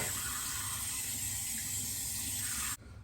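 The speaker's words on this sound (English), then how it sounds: "But let me wash this off real quick." A tap runs steadily while face product is washed off, a loud, close, continuous hiss of flowing water that cuts off abruptly near the end.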